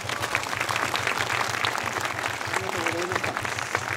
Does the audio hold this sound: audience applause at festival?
yes